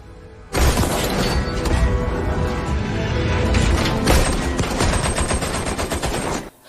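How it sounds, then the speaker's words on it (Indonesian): Sustained automatic rifle fire during a weapons competition test: a dense, loud burst that starts abruptly, rattles on for about six seconds with a brief surge midway, then cuts off. "beberapa tipe senapan mesin dari beberapa perancang diperlombakan"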